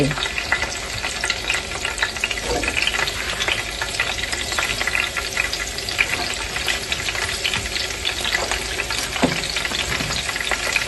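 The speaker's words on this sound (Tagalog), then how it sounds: "ipan-fry po natin yung ating sitaw" String beans (sitaw) fry in heated cooking oil, giving a loud, even crackling sizzle that runs throughout with faint stirring beneath it.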